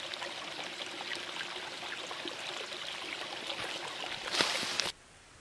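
Spring-fed brook water flowing through a forest in the Palatinate Forest near St. Martin: a steady, close babbling rush that holds evenly, swells slightly near the end, then cuts off abruptly.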